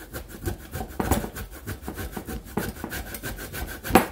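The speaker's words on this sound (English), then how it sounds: "So we're just gonna grate and grate" Cassava root scraped steadily across a hand grater, a continuous train of quick, rhythmic rasping strokes, close and moderately loud with a few heavier strokes, no voices.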